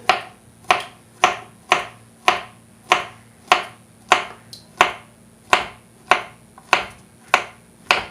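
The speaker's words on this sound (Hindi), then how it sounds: "तो यहाँ पर ले लिया है हमने 1 अदद बनाना को हम बारीक स्लाइस में काट लेंगे" A knife cuts a banana into thin slices on a board, making a steady run of about sixteen sharp, crisp chops at an even, quick rhythm, close and clear with no talking.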